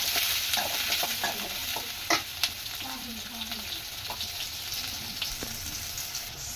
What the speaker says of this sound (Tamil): ஆனியன் நல்லா கொஞ்சம் வதங்கி வருது ஃப்ரெண்ட்ஸ்.